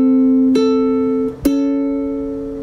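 A ukulele is plucked on its first and third strings, giving two ringing notes that sustain together. A soft pluck shifts one note partway through, and a sharper pluck follows. The notes are close and clear, with no talking over them.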